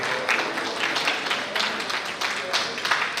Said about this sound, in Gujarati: એકવાર જોરદાર તાળી મેડમ માટે.